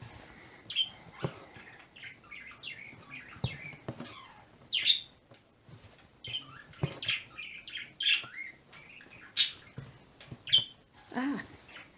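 Birds chirp and squawk in short, scattered calls, close and clear, with brief quiet gaps between bursts.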